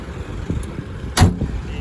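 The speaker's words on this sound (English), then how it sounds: "Closing this door first" A Toyota Land Cruiser 70 Series FJ76 door shuts with a single solid thud over faint background noise.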